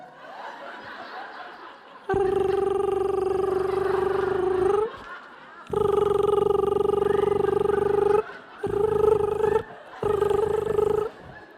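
A voice imitates a purring growl in several sustained, droning bursts separated by short pauses, loud and close.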